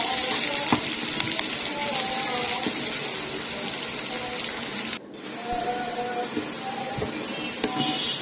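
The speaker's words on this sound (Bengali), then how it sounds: "এখন আমি পেঁয়াজগুলোকে লাল লাল করে ভেজে নেব।" Chopped onions frying in oil in a pan for a beef curry, giving a steady broad sizzle with occasional crackles and a brief dip near the middle, heard close up with no talking.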